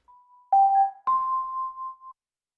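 Two synthesized bell tones, played live, ring out in sequence, each struck sharply and sustaining with a smooth, steady shimmer before cutting off; no voices.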